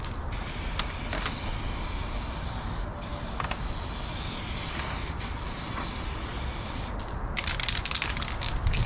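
Spray can of touch-up paint hissing in several steady bursts with short pauses between them, close and loud, ending in quick rattling clicks.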